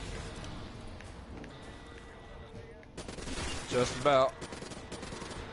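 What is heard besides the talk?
gunfire shooting zombies in a video game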